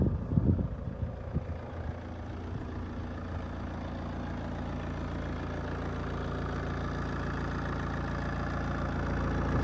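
A 150 hp 1.9-litre diesel in an Alfa Romeo GT idles close by, a steady low rumble with diesel clatter and a few louder knocks at the start. No talking.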